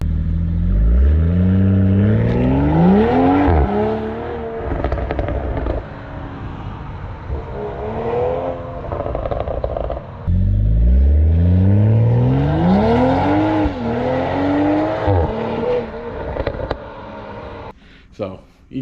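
A 2020 Toyota GR Supra's aftermarket Remark exhaust revs hard twice, a deep raspy growl that climbs and falls with each blip, loud and close.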